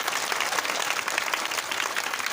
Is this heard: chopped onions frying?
no